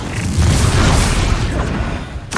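A Confringo explosion spell goes off in Hogwarts Legacy as one loud, deep boom with a crackling burst that holds briefly and then fades.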